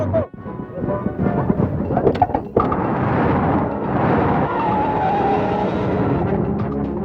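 A car skids hard to a stop in a South Indian suspense comedy film scene, tyres screeching loudly over engine noise for several seconds before a rumbling settle.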